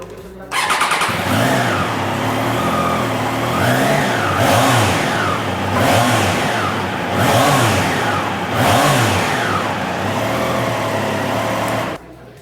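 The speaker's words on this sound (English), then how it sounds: "So that was the sound of the Triumph Trident 660." Triumph Trident 660 motorcycle, a 2021 model, revving repeatedly with a sporty, aggressive exhaust note, five or six rising and falling throttle blips over a steady idle, close and loud, ending abruptly.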